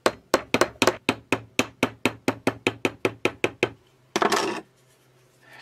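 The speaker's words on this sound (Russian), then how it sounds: "Теперь подправим молоточком." A small hammer tapping a kitchen knife blade while fixing it: about sixteen sharp metallic taps in a steady rhythm, close and clear, followed by a pause and one louder, rougher scraping knock.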